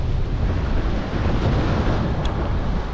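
Sea waves hit the harbour breakwater at Brixham in South Devon and splash up, making a continuous broadband wash mixed with gusty wind buffeting the microphone, steady and fairly loud, with no voices.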